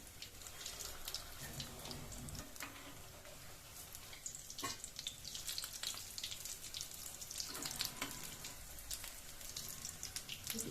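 Bread rolls shallow-frying in oil over a medium flame give off a faint, steady crackling sizzle with light popping, continuous and fairly distant-sounding, with no voices.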